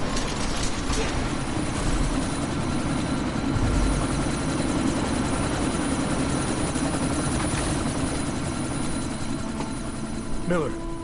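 A helicopter in the video game Deus Ex Mankind Divided hovers amid a sandstorm, its rotor and engine making a loud, steady, unbroken drone for the whole stretch.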